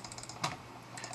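Rapid light clicks from a computer mouse during a Dota 2 match, a quick run of close, faint taps with one slightly louder click near the middle, no voices.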